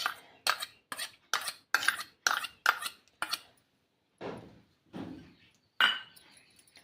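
Spoon clinking and scraping against a bowl in short repeated bursts while batter is mixed with curd and crushed peanuts for fasting appe, followed by a few softer, duller stirs.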